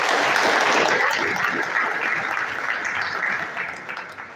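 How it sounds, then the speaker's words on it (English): Audience applause at a university ceremony as a chancellor presents certificates to debaters, a dense, steady wash of many hands clapping that holds strong, then thins and fades toward the end. "A round of applause for him as he makes"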